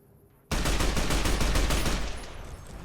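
The All-American rifle fires in Fallout: New Vegas. After a moment of quiet, a loud, rapid string of gunshots breaks out, the crisp reports crowding close together and then easing slightly toward the end.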